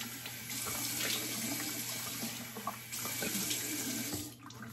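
Near-hot water runs steadily from a bathroom tap into a sink during shaving prep, a close, continuous splashing stream that dips briefly near the end.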